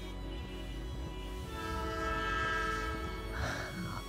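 A train horn sounds loud and sustained as a train approaches, over a steady rumble of wheels on rails with rhythmic clacks from the cars, the horn swelling toward the end.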